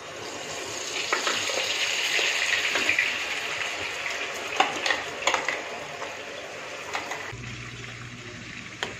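Curry leaves sizzle and crackle in hot homemade red onion hair oil on medium heat, with steady frying hiss, brief sharp spatters and stirring scrapes, before dropping to a quieter low hum.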